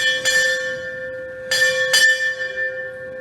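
A ship's bell rings four times in two quick pairs at a naval hospital change of command ceremony, each strike clear and ringing out, with a steady tone lingering between.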